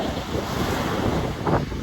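Ocean waves wash onto a beach while strong wind buffets the microphone, a loud steady roar with a brief surge of surf near the end.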